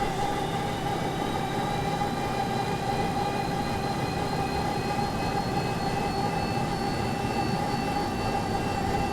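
Jet engines of a Boeing 737-200 in X-Plane 11 spooling up, a steady loud turbine roar with a high whine and tonal hum, continuous and unbroken without talk.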